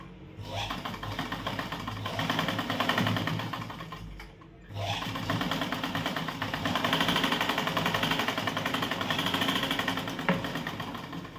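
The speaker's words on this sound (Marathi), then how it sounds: "व्यवस्थित धरून पूर्ण टिप मारायची आहे." Sewing machine stitching the cross strip of a size 38 katori blouse, running steadily and fairly loud for most of the stretch with one short pause partway through, and no talk over it.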